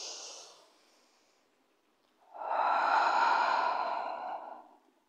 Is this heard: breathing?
yes